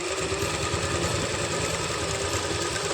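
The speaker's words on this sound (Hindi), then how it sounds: "देखिए बिल्कुल पॉकेट के किनारे किनारे से हमें सिलाई लगानी है।" A sewing machine runs steadily while stitching along the edge of a palazzo pant pocket, a close, continuous rapid whirring hum with an even mechanical rhythm and no speech.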